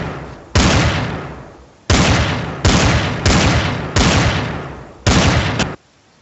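Gunshots from a Garry's Mod match boom out in loud, heavy blasts, five or six in close succession, each a sharp crack with a long decaying tail, with no voices over them.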